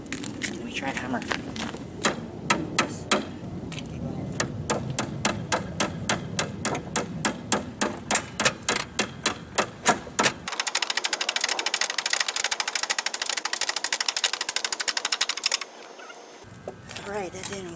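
Rapid metallic tapping of a hammer striking a BMW 325i starter, a long run of evenly spaced sharp strikes close by with a voice speaking alongside, followed by a denser stretch of clattering noise.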